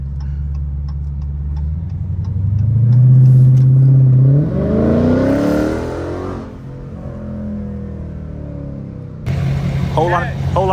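A Dodge Scat Pack V8 revs as the driver taps the gas, rising to a loud, climbing engine roar. The roar then drops back to a low idle rumble while the car moves through traffic.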